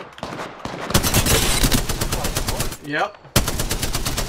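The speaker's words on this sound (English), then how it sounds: "Opening fire on the enemy." R99 submachine gun fire in Apex Legends, rapid automatic bursts crackling loud and close, pausing briefly near the start and again just past three seconds, with a short spoken word from a player in between.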